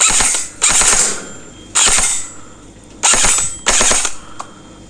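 An electric M4 CQB gel blaster rifle fires at a target in four loud, sharp full-auto bursts, each lasting about half a second, with quiet pauses between them and no talking.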